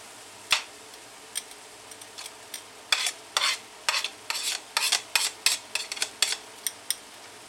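Garlic and onion hit a hot pan for pinakbet, giving a string of short crackling, clattering bursts as they are stirred, quiet and irregular at first, then quicker and denser.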